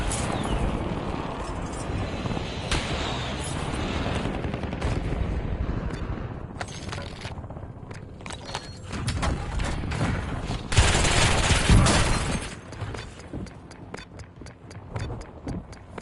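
Rapid gunfire and bursts of automatic fire from a Call of Duty match, dense and loud throughout, swelling into a heavier barrage near the end amid in-game sounds.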